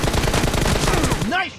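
A rapid stream of video game gunshots fires continuously and loudly for about a second and a half, ending in a short electronic whoosh, with a voice faintly present.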